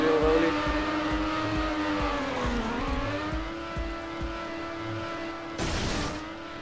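A race car engine in the Trackmania video game hums steadily with a sustained whine that dips and rises as the car steers, ending in a brief burst of skidding noise.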